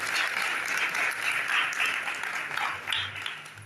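Audience applause at a project launch, steady crowd clapping at moderate volume for a few seconds, fairly even with a slight fade toward the end.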